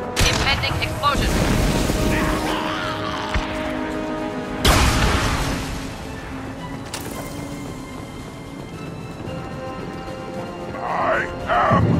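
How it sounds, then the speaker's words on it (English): In the game Mass Effect 2, loud booming explosions and bursts of gunfire come in heavy, close blasts, one sharp detonation near the middle, with voices and game sound around them. "Impending explosion."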